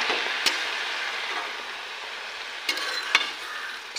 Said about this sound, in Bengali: এবার এটাকে একটু নাড়িয়ে দেবো